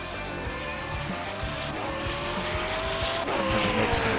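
GT3 race cars in a racing video game at Sebring: continuous loud engine roar with rising and shifting gear tones, tire squeal, and dense overlapping car noise throughout.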